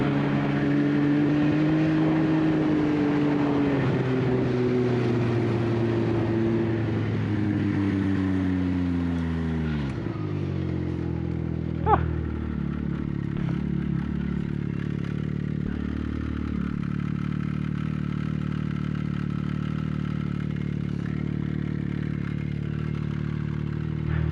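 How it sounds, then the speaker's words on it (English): A Yamaha snowmobile engine runs under throttle, a loud steady drone whose pitch climbs and wavers, then drops and settles around the midpoint with a brief clatter, holding at a lower pitch afterward, with no voices. "But I know if I squeeze the throttle, it just keeps going."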